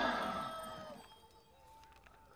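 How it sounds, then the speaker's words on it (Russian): A rooster crows in the strategy game Heroes of Might and Magic III: Horn of the Abyss, a fairly loud drawn-out call at the start that fades into quiet background tones. "петух, если честно, задрал вот это вот кричать здесь"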